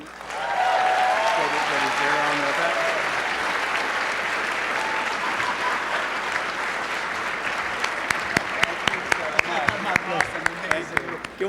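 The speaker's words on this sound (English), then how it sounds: "Can we have another round of applause for that amazing individual?" Sustained audience applause at an arts awards ceremony and luncheon in New York, a dense steady wash of clapping from a large crowd that builds quickly and holds, with a few sharper individual claps standing out toward the end.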